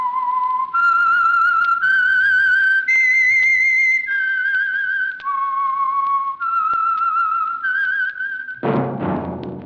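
The whistled signature tune of The Whistler radio drama: clear, sustained notes climbing and falling in steps, loud and close, ending with a brief burst of noise.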